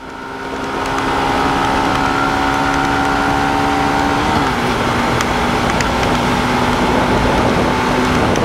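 A 2025 Yamaha FZS Fi Hybrid 150cc motorcycle accelerating toward 100 on a ride, engine drone rising steadily in pitch, one gear shift midway, then climbing again under loud, constant wind rush.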